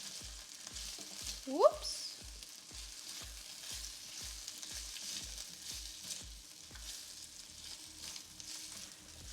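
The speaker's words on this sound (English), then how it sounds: "Okay, potatoes are in. Let's give them a little stir." Potatoes fry in oil and get a stir, giving a soft, steady sizzle under a faint regular low thumping. A brief spoken exclamation cuts in near the start.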